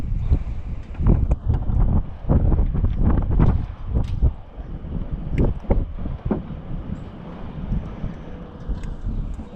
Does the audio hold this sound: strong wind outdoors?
yes